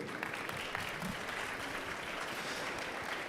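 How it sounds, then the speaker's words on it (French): Audience applause for three speakers at a French HR conference session, steady dense clapping throughout at moderate volume with no speech over it. "Je voudrais que vous les applaudissiez tous les trois"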